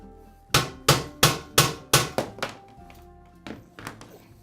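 A hammer bangs on a metal combination safe in a quick run of about nine hard, ringing strikes, loud and close, trailing off into lighter taps.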